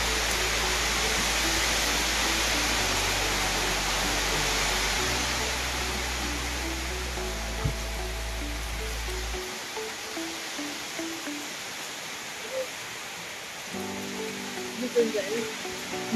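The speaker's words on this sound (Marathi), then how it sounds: "कसला पाऊस आलाय" Heavy rain pours down outside a house during a power cut, a loud, steady broadband hiss that fills the whole stretch, with a low hum underneath that stops about halfway through.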